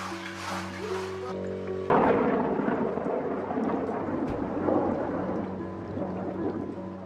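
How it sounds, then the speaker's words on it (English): Steady rain and rolling thunder over a wet building site where a Roman-style bath is being built, a dense continuous wash of rainfall with deep rumbles and a louder crack swelling in partway through. "Rain not only slows down Teoman's schedule, it also soaks an already wet building."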